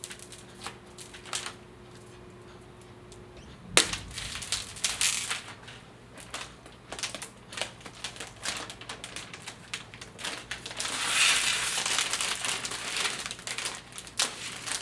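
Protective plastic film is peeled off the glass side panel of a Raijintek Coeus Elite PC case, giving close, irregular crinkling and crackling bursts that grow denser toward the end.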